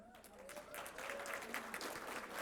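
An audience claps at a business hall of fame awards event, a dense, steady patter of applause from an indoor crowd throughout.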